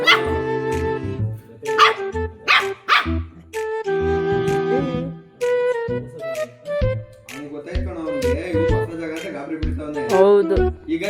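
A dog yips, whimpers and barks in short excited bursts close by, mixed with people talking and other voices throughout.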